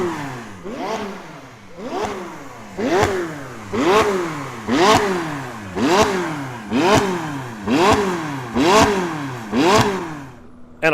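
A McLaren car engine at a Highlands car showcase revs hard through big exhaust pipes in about ten evenly spaced, rising-and-falling blips, loud and close with a crackling exhaust tone.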